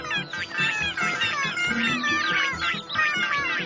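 Newborn cartoon kittens in a Garfield episode meow in a dense, overlapping chorus of high, wavering cries that continues without a break, with a low murmur beneath.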